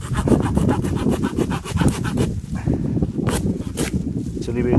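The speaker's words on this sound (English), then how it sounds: "these saws cut on the pull stroke, not on the push, so that becomes hard work" A hand saw cutting on the pull stroke through roe buck bone rasps back and forth in steady, rhythmic strokes, a gritty scraping cut that keeps going, close and fairly loud.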